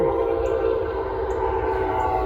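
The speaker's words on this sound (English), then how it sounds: "There goes the evening train." A passing evening train rumbles steadily in the distance as a continuous low drone, with faint whistle-like tones drifting over it and no talking.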